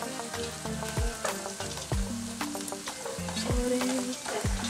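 Onions fry in a pot for Kenyan pilau while being stirred, a constant sizzle with repeated scraping, knocking strokes of the spoon against the pot, close and prominent.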